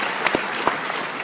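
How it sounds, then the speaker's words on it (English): A brief burst of audience applause at a personal development seminar, a dense patter of many hands with a few sharper claps standing out, lasting only about a second. "Give them another round of applause."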